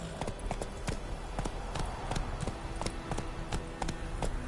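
A horse galloping in The Witcher 3, a steady run of close, rhythmic hoof clip-clops over game ambience.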